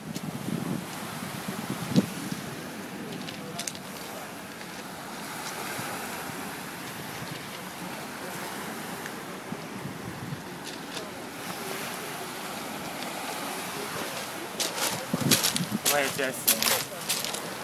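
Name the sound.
sea waves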